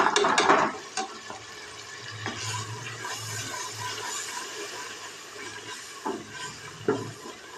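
Red chilli, salt, turmeric and coriander powder masala fries in a pan for chicken chana daal, a low sizzle under repeated stirring scrapes and clinks, louder at the start.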